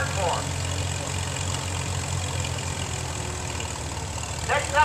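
A 1940s-era International tractor fitted with an M&W hand clutch idles at a tractor parade, a steady low rumble holding for several seconds amid outdoor crowd noise.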